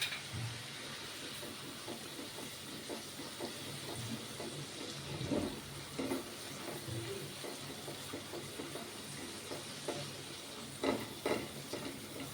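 Crushed ginger, green chillies and garlic dropped into hot oil in a kadai with golden-browned onions, giving a soft, steady sizzle with light stirring scrapes, close but quiet.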